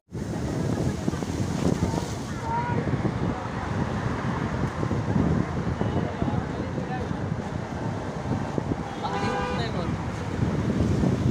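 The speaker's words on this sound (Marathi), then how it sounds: "हे बघा लाटा किती मोठ्याने येतात" Steady roar of surf and wind at Marine Drive, Mumbai, fills the recording, waves rushing continuously with faint voices and gusts buffeting the microphone.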